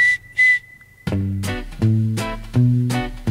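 A whistled tune from a 1967 Italian song, a clear high tone in short bursts that gives way to a band of bouncy instruments playing the melody.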